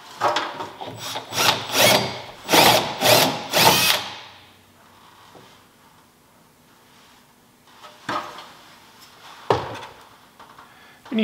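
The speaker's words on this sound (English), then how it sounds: "I'm gonna have to ream this one bolt out" A power drill reams out a bolt hole in several loud, close bursts at the start, then falls quiet, with a couple of short grinding bursts later.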